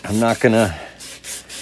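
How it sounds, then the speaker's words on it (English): Sandpaper rubbed by hand across a mahogany plant stand, a few short scratchy strokes heard faintly after someone speaks briefly. "I'll give that a little bit more of a sanding"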